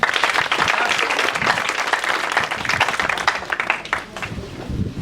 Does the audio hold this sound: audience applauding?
yes